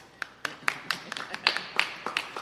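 A single person claps hands at a press briefing, about ten sharp, slightly uneven claps spaced roughly a quarter second apart, close and fairly soft, with no talk over them.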